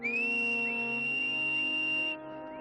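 Canary Islands whistled language: one loud, sustained high whistle holds a steady pitch with a few brief slides for about two seconds, then stops, leaving a steady hum.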